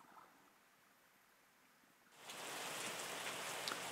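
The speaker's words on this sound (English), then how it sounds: "Some rain to start our year off." Rain in the video game Wine Making Tycoon Simulator begins as a steady hiss about halfway through and stays loud and even after a quiet opening.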